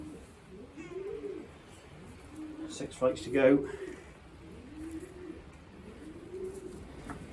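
Young racing pigeons in a loft give repeated low coos through the clip, with a brief louder flutter or call in the middle, while someone talks nearby.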